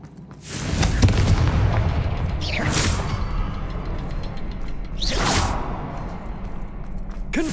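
Confringo blasting spell in Hogwarts Legacy: two loud, close booming explosions, each with a whooshing burst, over a rumbling low background.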